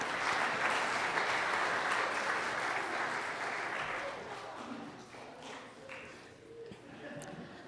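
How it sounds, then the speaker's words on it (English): A church congregation at a Lutheran worship service applauds young people in a steady, distant wash of clapping that thins out after a few seconds. "let's give these young people a round of applause"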